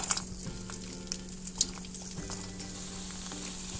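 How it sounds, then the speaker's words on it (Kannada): Onion sandige, dried crisp onion fritters from North Karnataka, frying in oil, a steady bubbling sizzle with a few sharp crackles and a low hum underneath, no voices. "ಇವಾಗ ಇದನ್ನ ಎಣ್ಣೆಯಲ್ಲಿ ಫ್ರೈ ಮಾಡೋಣ."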